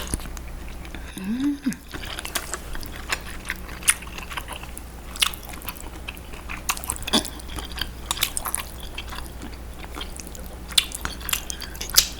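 Spicy Samyang ramen eaten with bracken fern and meat, with soft close-up chewing and wet slurpy mouth sounds, small clicks and squishes in a quiet room.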